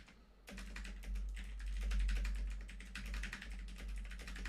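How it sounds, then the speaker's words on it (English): A quick, continuous run of computer keyboard keystrokes clatters close by after a brief quiet start, steady and moderately loud over a low hum. "Sorry if you can hear me clickety-clacking and typing."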